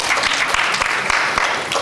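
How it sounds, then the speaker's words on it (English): A conference audience applauds its panel guests and speakers at an education policy event: dense, loud clapping from a full room, steady throughout without pause. "A huge round of applause for them."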